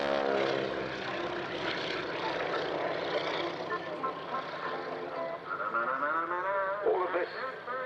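Propeller drone of a training aircraft with a 450 horsepower Pratt & Whitney engine at an airshow, a steady broad roar throughout, with a commentator's voice talking over it.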